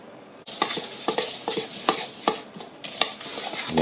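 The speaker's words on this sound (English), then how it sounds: "we'll just mix that spices, onion, garlic into that oil" A spoon stirs spices, onion and garlic into olive oil in a bowl, giving close, irregular scraping and clinking strokes that repeat every half second or so, moderately loud with no talk.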